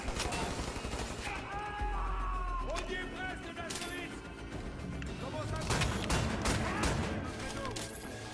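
Weapon fire from the video game Wolfenstein The New Order: repeated sharp shots and blasts over a dense, busy game mix, with someone talking over the action.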